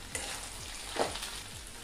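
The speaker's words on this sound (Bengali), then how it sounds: "দেখুন ভিন্ডিটাও কিছুটা ভাজা ভাজা হয়ে গিয়েছে" Okra and potato fry in a pan for a mustard curry, a continuous close sizzle broken by several rhythmic scraping strokes of a spatula stirring the pieces.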